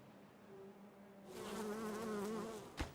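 Bees from video-game beehives buzz in a soft, steady drone that swells and wavers over a few seconds, ending with a short sharp click.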